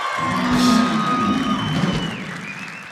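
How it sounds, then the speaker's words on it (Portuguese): A studio audience applauds and cheers on a Brazilian television talk show, with a broad, loud wash of clapping and a few whoops filling the whole stretch. "uma salva de palmas para o SBT"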